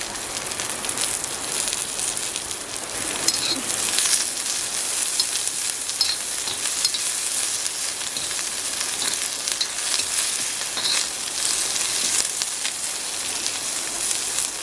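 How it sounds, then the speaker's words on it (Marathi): Garlic and onion frying in a pan for a wild monsoon leaf vegetable dish, a dense steady crackling sizzle like light rain, close and continuous with no voices. "लसूण टाकले लसूण लाल पण झाले बघा आणि कांदा टाकले"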